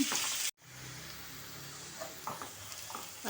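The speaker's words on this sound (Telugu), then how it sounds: "వేగిందండి ఉల్లిగడ్డ" Onion sizzles in a pan with a little salt, the base for an amaranth leaf fry. After a brief cut, a steady close hiss of frying continues alone, with faint stirring clicks.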